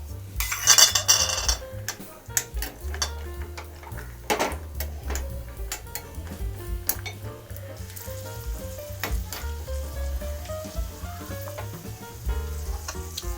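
Cashews frying in hot ghee, a crackling sizzle with intermittent clinks of a metal spoon against the pan and scattered ticking pops.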